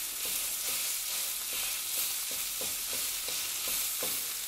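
Hamburger steak patty searing in a pan, a constant bright sizzle with soft periodic scraping ticks as it is worked, close and continuous with no voices.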